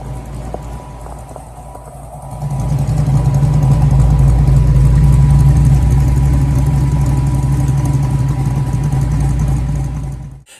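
A small engine with an aftermarket exhaust and bigger carburetor jets, quiet at first and then rising into a loud, steady low rumble close by, holding constant for several seconds before cutting off abruptly.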